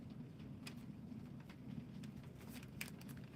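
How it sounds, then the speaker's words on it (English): Heavy rain falling outside a JoAnn craft store, a steady soft hiss with scattered louder patters, faint and continuous with no talking. "can you all hear it raining? Just like opened up the skies."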